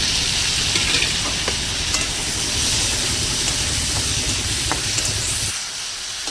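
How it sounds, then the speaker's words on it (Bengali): Chopped tomatoes go into onion and garlic frying for a shrimp, bean, potato and cauliflower curry, giving a loud, dense, continuous sizzle with occasional stirring clicks that drops away sharply near the end. "আমি এখন দিয়ে দেবো টমেটো কুচিগুলো"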